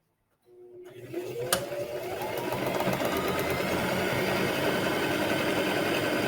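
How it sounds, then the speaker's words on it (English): A sewing machine runs steadily after a brief start, stitching fabric triangles together for a half-square triangle quilt block, a close, even mechanical whir that continues without pause. "Make sure your corners are matched. We're going to sew it together."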